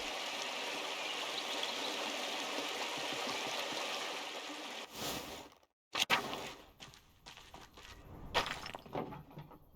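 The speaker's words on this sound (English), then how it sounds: "The waterfall is always so beautiful." A waterfall and stream in the video game Pentiment pour out a steady, moderate rush of flowing water for about five seconds before the sound cuts away into brief silence and clattering bursts.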